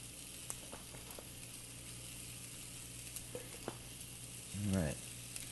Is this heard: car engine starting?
no